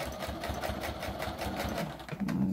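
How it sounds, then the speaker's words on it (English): A sewing machine backstitches fabric at the end of a seam, stitching at a fast, even mechanical rhythm. The whirring is close and moderately loud, with a short pause and a change of pace near the end. "I'm getting to the end and I'm going to backstitch"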